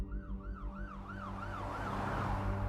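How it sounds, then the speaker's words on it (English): An ambulance siren wails in a rising and falling cycle, repeating steadily and growing louder over a low road rumble, with no one speaking. "Minutes later, an ambulance arrived, followed by a fleet of police cars."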